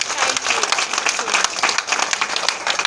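An audience at a special film screening claps together, a dense, continuous round of applause of moderate loudness lasting about three seconds.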